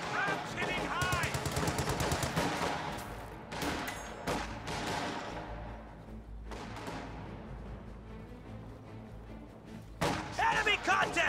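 Rapid machine-gun bursts and rifle shots crackle through a World War II combat game, dense volleys at the start and end with scattered gunfire between, while soldiers' voices shout over the battle.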